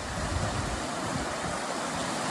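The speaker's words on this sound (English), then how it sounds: "best little rock waterfall" A small rock waterfall near Kelly's Lane Bridge on a High Country river gives a loud, continuous rushing splash close by, with no talk over it.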